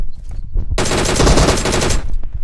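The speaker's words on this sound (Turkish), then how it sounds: "Dışarıdan biri sıkıyor." Sustained automatic gunfire rattles from outside a building in PUBG Mobile, a dense loud burst lasting over a second after a few scattered softer sounds, with no talk over it.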